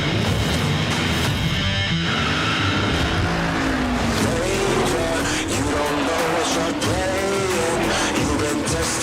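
An all-new Ford Mustang's engine roars loudly at a live reveal event, rising and falling in pitch over a steady, dense background of crowd noise and music.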